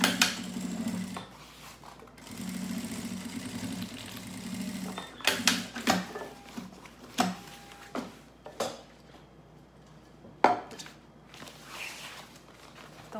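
A domestic sewing machine runs a flat-felled topstitched seam at a long stitch length of 4.5, with short whirring bursts mixed with clicks and handling knocks, close and fairly quiet, no talking.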